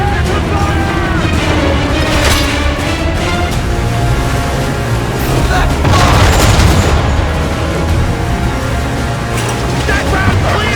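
Ship cannons fire in Assassin's Creed 3 during a naval battle, heavy booming blasts rolling over loud ambient sea and battle noise, with several louder impacts clustered mid-way and shouts mixed in.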